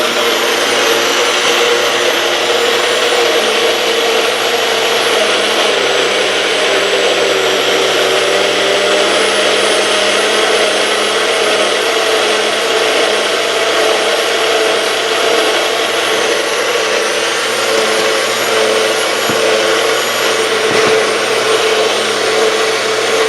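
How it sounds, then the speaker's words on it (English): A Baby Bullet blender whirring steadily as it purees homemade baby food, a loud, continuous high motor whine held close up without a break. "Click it right into my bullet. And then you press and turn to the right."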